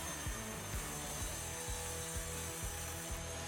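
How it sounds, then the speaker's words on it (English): A handheld DeWalt power planer making a few passes on a wooden board, a steady mechanical whir with a rhythmic pulse roughly every half second as the cutter block bites, close and continuous throughout. "I just use my handheld DeWalt planer on a few passes just to reach the right thickness"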